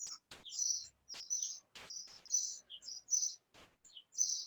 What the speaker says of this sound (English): I can hear all the birds singing